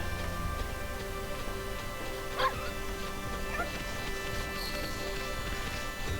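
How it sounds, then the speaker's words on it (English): In the Okami HD video game, a dog gives a few short, faint barks and yips in Kamiki Village over a steady, tonal game background. "Since just a reminder, we are a dog."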